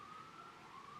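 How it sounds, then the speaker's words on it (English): Emergency vehicle siren heard from outside a city commission meeting room in Royal Oak, a steady wailing tone holding through the moment at moderate, somewhat distant level. "The sirens are going off."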